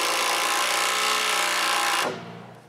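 A power drill bores a hole into wooden dock supports at a cottage, a loud continuous grinding whine held close for about two seconds before winding down.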